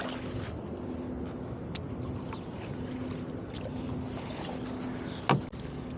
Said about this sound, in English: I chose to take her on a canoeing date on the Gowanus Canal